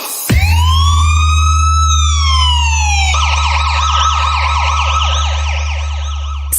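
A police car siren with heavy bass boost: a loud rising and falling wail gives way to a rapid yelping warble, with a constant booming low rumble underneath throughout.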